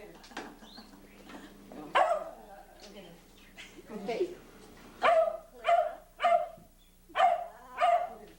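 A dog barks in repeated sharp bursts at a birthday gathering, the later barks coming in a quick regular series close by, while people talk over and around them.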